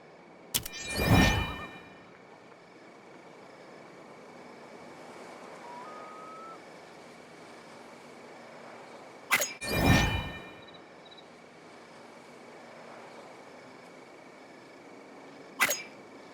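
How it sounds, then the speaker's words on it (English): In The Oregon Trail game, the Green River's water makes a steady, soft rushing wash throughout, broken by a few sharp whooshing clangs. "The waters of the Green River rush past violently"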